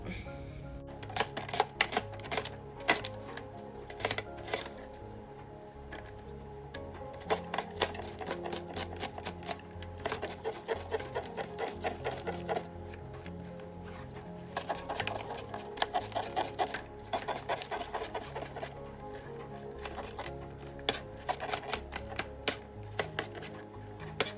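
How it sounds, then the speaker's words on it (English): A cutting board sliding and knocking across a kitchen counter while onions are diced for chili, a busy run of dense, rapid clattering taps and scrapes that continues steadily without talk. "now that we're done watching my cutting board slide across"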